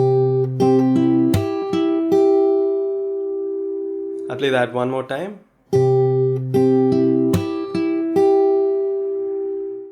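Fingerstyle guitar plays a song chorus with a percussive slap on the third beat of each bar, bright plucked notes and steady rhythm in two passages separated by a brief spoken remark.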